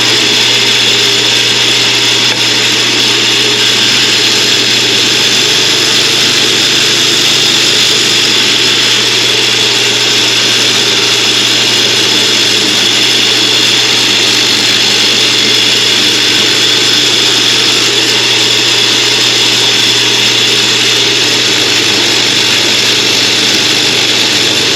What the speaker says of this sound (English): this is the old orbital sander that we built, and it's still working great